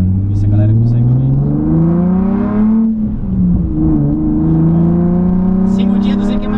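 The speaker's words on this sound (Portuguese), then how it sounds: "Quero ver esse ronco aí que falou que mexeu no escape." A Nissan 350Z with a modified exhaust revs loudly and close, its engine note climbing, dipping briefly at a gear change, then rising again, with no speech.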